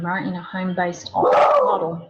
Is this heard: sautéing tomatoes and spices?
no